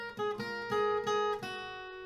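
Acoustic guitar picks a short chorus melody from a song, a few plucked notes ringing out softly and close, with the last one decaying, no voices.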